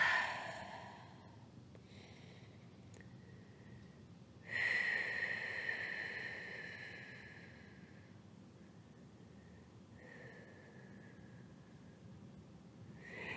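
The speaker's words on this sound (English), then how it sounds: "Give yourself a couple breaths here. Maybe some open mouth exhales." Open-mouth exhales during a strong full-body yoga flow, heard as soft, breathy sighs at intervals over faint room hiss, with one fuller breath partway through, quiet and close with no talking.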